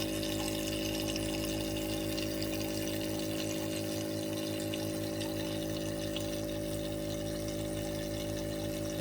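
An aquarium filter pump hums and churns steadily as it fills water up its pipe, a constant motor drone with rhythmic pulsing and a wash of flowing water, close and continuous with no speech.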